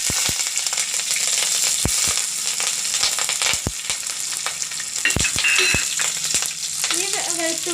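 Green chilies and ginger fry in hot oil with curry leaves, giving a steady loud sizzle broken by sharp crackles and pops and occasional stirring clinks.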